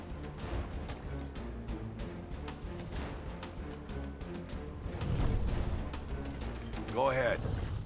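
A Brumak lets loose a barrage in Gears Tactics on Insane difficulty, a faint string of distant booming impacts and gunfire with louder blasts rolling in toward the end.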